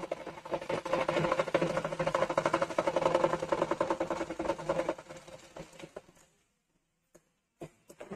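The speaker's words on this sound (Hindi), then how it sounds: "सिलाई से चला देते हैं 1/2 इंची पर ही" A sewing machine runs a continuous stitch along fabric half an inch from the edge, whirring steadily and close for about five seconds before slowing and stopping, followed by a few faint clicks.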